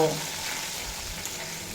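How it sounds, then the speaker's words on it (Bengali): Ginger and green chili paste frying in a pan for a vegetarian drumstick (sajne data) dish, giving a steady soft sizzle throughout with a faint scrape near the start, no talking. "আদা আর কাঁচা লঙ্কা বাটা দিয়ে আদা কাঁচা লঙ্কার কাঁচা গন্ধ চলে যাওয়া পর্যন্ত ভেজে নেব"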